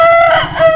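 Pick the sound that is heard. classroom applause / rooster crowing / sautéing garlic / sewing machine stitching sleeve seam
rooster crowing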